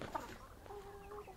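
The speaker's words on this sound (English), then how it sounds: "We've just let our chickens out." Free-range chickens cluck softly just after being let out of their coop, giving a short, close burst of clucks and one drawn-out call over faint outdoor background.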